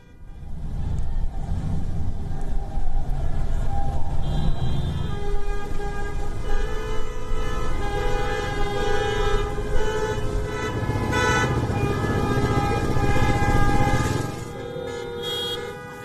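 Car horns honk again and again from drivers at an anti-lockdown protest near city hall in Los Angeles, sounding as overlapping, sustained blasts of differing pitch over the rumble of traffic.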